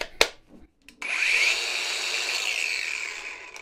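Ingco cordless angle grinder powered from a 20V/40V battery backpack spins up after a couple of brief clicks and runs at a steady, loud high-pitched whine for several seconds.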